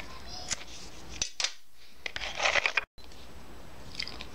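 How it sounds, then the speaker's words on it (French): Scissors snip through a looped nylon cord for a shamballa bracelet, giving a few sharp, close crunchy cuts separated by quiet pauses. "je coupe la boucle en deux"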